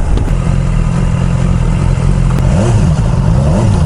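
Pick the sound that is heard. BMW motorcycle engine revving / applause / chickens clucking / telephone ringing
BMW motorcycle engine revving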